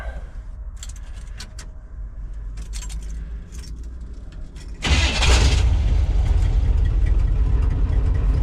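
Keys jingle faintly in the ignition of a 1980 Chevy 4x4 truck, then the engine cranks and catches with a sudden loud rush and settles into a deep, rumbling idle nearby.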